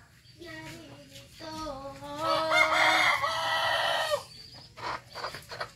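A chicken that has just been caught and is held in someone's hands gives loud, squawking clucks and a drawn-out crow-like cry close by, then shorter clucks, with a few voices talking around it.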